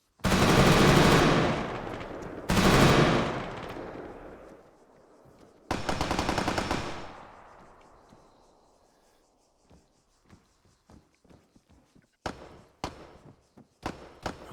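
Gunfire in the combat video game ArmA 3: two long, loud automatic bursts with rolling echoes, a third burst, then scattered distant single shots and a few sharper cracks, with no talking.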